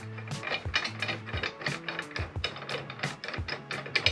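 Parts of an inexpensive fender roller are screwed together, giving repeated ratcheting clicks in quick irregular bursts, close and fairly loud, with no talk.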